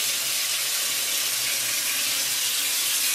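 Hot water, about 200 milliliters, pours steadily for noodles, giving a continuous bright hissing rush at close range and even loudness throughout.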